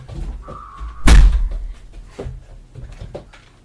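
A door slams shut hard on a farm, one loud, sharp impact standing out clearly, with faint rustling and handling noises before and after it.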